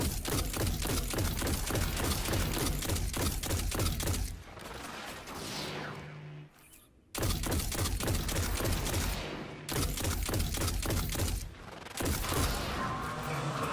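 Rapid automatic gunfire rattles loud and close in the Destiny video game, broken by a couple of short pauses and a crashing burst, during a solo Prestige Nightfall fight in the Garden World.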